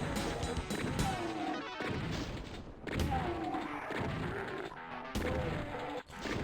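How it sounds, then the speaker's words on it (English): Rockets blast at mancubuses in the Doom game, a series of loud booming explosions and crashes in quick succession with brief gaps between them, dense and close. "When it comes to mancubuses, I'm just going to use rockets."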